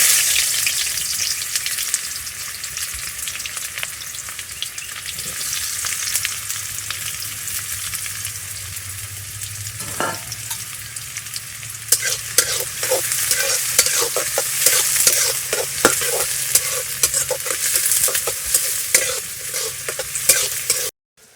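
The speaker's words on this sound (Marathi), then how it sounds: "हा बारीक चिरलेला कांदा हा आपण त्याच्यामध्ये टाकून घेतोय" Finely chopped onion and pieces of cinnamon fry in hot oil in a pan on a wood-fired stove outdoors at a farm, giving a loud, continuous sizzle, with clattering stirring strokes thickening toward the end and no talking.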